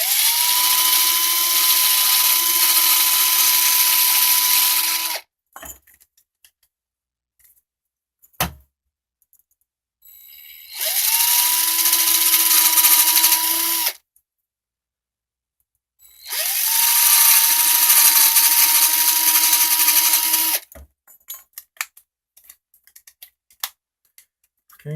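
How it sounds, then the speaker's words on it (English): An electric drill fitted with a nail as its bit enlarges holes in copper pipe for a hair clip, three steady whining runs of about five seconds each separated by silences and small clicks, close and alone. "use the nail to drill the holes out a little bit."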